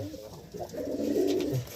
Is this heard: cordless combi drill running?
no